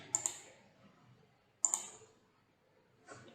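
Two crisp computer mouse clicks land in quick pairs, each a sharp double tap, close and quiet in an otherwise silent room, with a softer click at the end.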